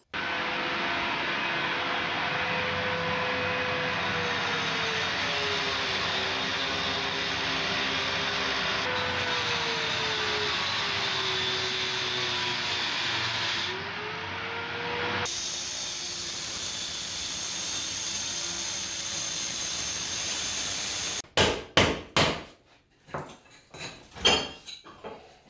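Grinding out the grout lines between wall tiles during a tile repair, a loud, steady power-tool whine with a wavering pitch that runs for about fifteen seconds, then a quieter stretch, ending in a burst of sharp clattering hits.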